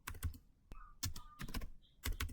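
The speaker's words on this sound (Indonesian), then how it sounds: "Ketik lagi switch port" Quiet clicks of typing on a computer keyboard, a few irregular bursts of keystrokes with short pauses between them.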